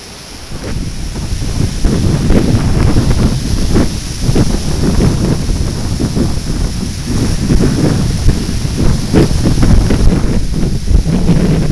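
Gulf Shores ocean waves rolling onto the beach, heard as a loud, continuous surf wash with repeated soft crashes and heavy wind rumble against the microphone, with no voices.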